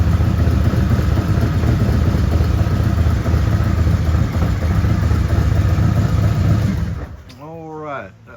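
A 2024 Harley-Davidson CVO ST with a Stage 1 build and Bassani 2:1 exhaust runs with a loud, rumbling engine drone. It cuts off near the end, and a short voice follows.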